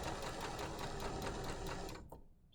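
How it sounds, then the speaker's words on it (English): A sewing machine runs steadily for about two seconds, stitching a French seam on fabric, with a close, fast, even whirring hum that slows and stops at the end. "So I'm going to sew along here."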